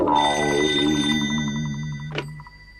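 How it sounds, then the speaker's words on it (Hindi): Telephone bell rings in a Doraemon cartoon dubbed in Hindi, a steady electronic trill repeating rapidly and fairly loud, with a sharp click near the end as the ring cuts off. "अब मैं उसे फोन करके पूछता हूँ।"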